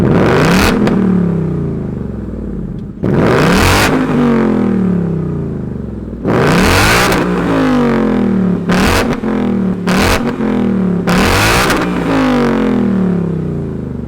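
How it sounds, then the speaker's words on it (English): A 2021 Ford Mustang Mach 1 V8 revs repeatedly, with about six loud, close throttle blips that rise and fall over a rumbling idle. "Let's hear what this V8 rumble sounds like."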